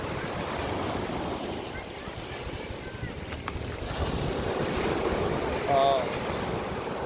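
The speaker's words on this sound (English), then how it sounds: "This is a big wave right here." Ocean surf on a Sanibel Island, Florida beach, waves of one to three feet rolling and breaking in a steady wash, with wind buffeting the microphone and a bigger wave swelling near the end.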